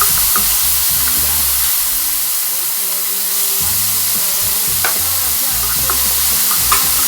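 Shrimps stir-fry in a hot pan for pancit canton, with a loud continuous sizzle and occasional spatula scrapes and clinks, close up and with no speech.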